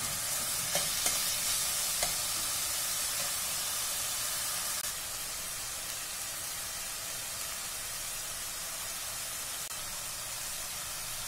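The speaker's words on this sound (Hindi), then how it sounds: "टमाटर को भी हम 2 मिनट के लिए पका लेंगे।" Tomatoes with ginger cook in a pan, giving a steady, close sizzle and hiss. A few soft stirring taps come early, and the frying noise drops slightly partway through. There is no talk.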